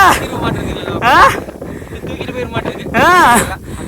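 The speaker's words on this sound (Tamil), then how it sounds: "மக்களே திடீர்னு காற்று பயங்கரமா அடிக்க ஆரம்பிச்சிருச்சுங்க" Strong, loud wind gusts roar and buffet the microphone on a mountain trek up Kumara Parvatha in Karnataka, while people talk excitedly over the rushing air.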